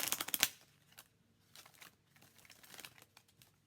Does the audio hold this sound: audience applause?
no